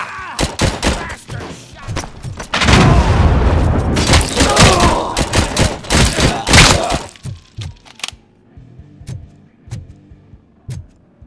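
Loud explosions and gunfire crash through a RoboCop: Rogue City firefight as a fire object is blown up, with a dense roaring blast mid-sequence and sharp shots and thuds scattered before and after.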